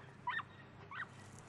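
Small dogs from a shared dog household whimper and yip before a walk, two short high-pitched bursts in a quiet room, fairly faint.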